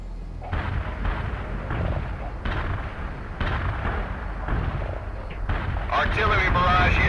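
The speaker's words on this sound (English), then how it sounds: "Artillery barrage hit for full effect." Artillery barrage hitting targets in World in Conflict, a run of heavy booming impacts rolling one after another into dense rumbling explosions, loud and continuous, with radio-style voices talking over it.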